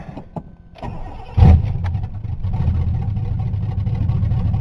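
Carbureted Ford Granada engine with stale gas and a self-built motor cranks briefly, catches with a loud burst, then settles into a steady, rumbling idle close by.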